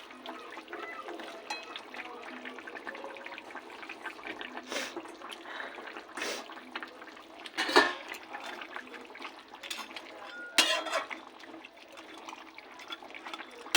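Fish curry simmering in a pot, a steady close burble of boiling liquid with soft gurgles and occasional louder bubbling bursts, no talking.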